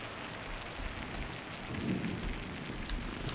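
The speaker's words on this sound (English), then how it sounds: "You can hear the rain too, there's some thunder." Rain pours steadily in the airport management game SimAirport while a low rumble of thunder swells underneath toward the middle, a continuous hiss with no voices.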